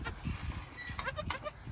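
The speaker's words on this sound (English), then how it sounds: "No, little baby goat." Baby goat bleating in a series of short, wavering cries close by on a goat farm, several calls clustered in the second half over light background rustle.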